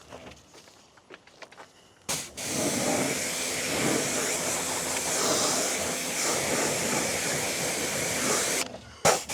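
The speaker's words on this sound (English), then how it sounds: "So we'll spray the degreaser, which I'm gonna show you guys on this wheel." A spray bottle of degreaser hisses in a long continuous burst onto a car wheel of a Supra during mobile detailing, loud and close, preceded by faint handling clicks and ending with short sharp bursts.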